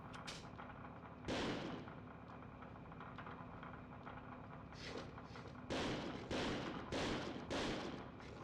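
Gunfire in the video game Second Sight comes as several sharp shots, a lone one early and a quick cluster near the end, over a steady low background hum.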